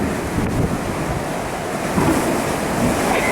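Strong wind roars and waves crash at Cedar Key during Tropical Storm Debby, a loud continuous broadband rush of gusting wind and surf with no break.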